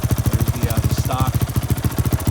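A 2008 Honda ATC450X trike with a BVC Trikes conversion idling close by, a loud, throaty engine thumping in a fast, even pulse throughout, with a brief voice over it.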